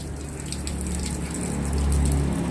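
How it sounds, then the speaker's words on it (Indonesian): Warm water poured steadily over an injured civet during a bath, starting at the tail, a continuous close splashing gush that swells slightly louder toward the end. "Kalian bisa siram musang kalian dari bagian ekor guys,"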